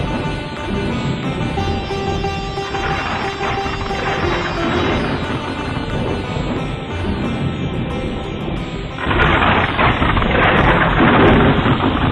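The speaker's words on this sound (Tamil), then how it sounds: "மழை பெய்வதை நிறுத்திக் கொள்ளுங்கள்" Heavy rain pours steadily in a storm over a mountain, with thunder rumbling throughout and a louder, denser surge of downpour and thunder in the final few seconds.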